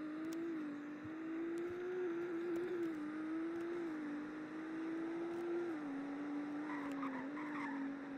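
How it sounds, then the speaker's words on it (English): A hypercar in Roblox holds a four-wheel burnout, its engine droning at a steady, wavering pitch with a continuous tire squeal, loud and close throughout. "Four-wheel burnout."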